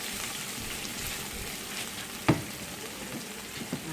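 Chopped onions fry in a pan with a steady soft sizzle, broken by a single sharp clink and a faint later tap, with no talking.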